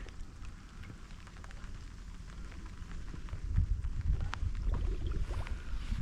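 Steady light rain patters on water and leaves at an autumn fishing spot, growing a little heavier and denser in the second half, with no voices.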